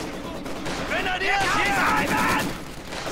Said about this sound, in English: MG42 firing ahead.